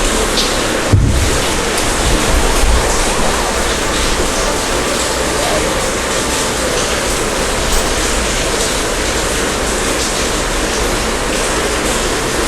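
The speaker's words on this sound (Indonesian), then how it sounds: "soalnya di luar hujan ya" Steady broadband hiss of rain falling outside, loud and continuous throughout with no breaks, a brief thump near the start, heard indoors during a Plants vs. Zombies game session.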